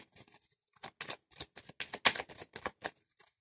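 A deck of oracle cards is shuffled by hand in a quick series of crisp riffling bursts, about a dozen in an uneven rhythm, close and clear with near silence between them.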